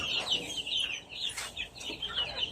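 Chicks cheep in a small poultry room, a dense chorus of high, shrill peeps overlapping continuously, close and fairly loud with no talk.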